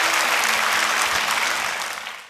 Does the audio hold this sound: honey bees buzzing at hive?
no